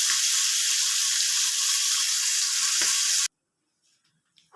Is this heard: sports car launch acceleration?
no